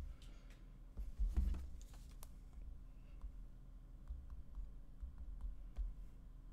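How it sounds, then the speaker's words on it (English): Typing on a PinePhone Pro keyboard accessory, heard as faint, soft key clicks in a quiet room with a louder cluster early on. "I could type in my code, but I will try it with the keyboard."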